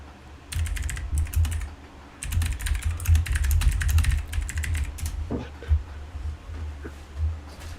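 Bursts of typing on a computer keyboard, rapid clicking clusters separated by short pauses, close and moderately loud, followed by a few isolated key taps.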